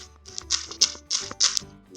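Quick taps on an Android phone's touchscreen keyboard while entering a search term, a run of about six crisp, close clicks in an uneven rhythm over a quiet background.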